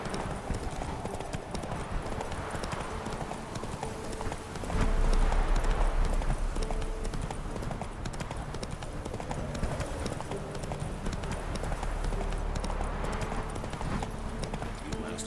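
Hooves of the horse Roach trotting in The Witcher 3, a steady clip-clop rhythm that swells louder midway and carries on to the end.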